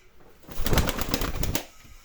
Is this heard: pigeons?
yes